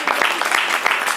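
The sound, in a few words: audience applause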